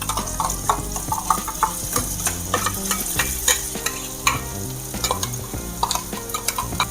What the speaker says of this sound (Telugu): మనం ఇందాక వేసుకున్న మసాలా కూడా ఫ్రై అయిపోయింది